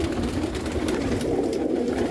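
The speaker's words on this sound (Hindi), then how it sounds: "तो कबूतर अभी सब हमारे फड़फड़ा रहे हैं।" Pigeons in a breeding loft, a dense, close flock cooing and stirring continuously without pause.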